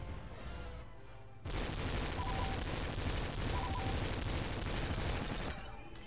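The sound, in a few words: gunfire from enemies in Star Wars Battlefront II video game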